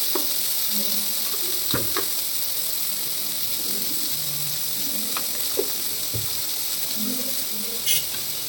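Saag greens fry in a pan in a home kitchen, giving a low, continuous sizzle with a few scattered clinks and scrapes.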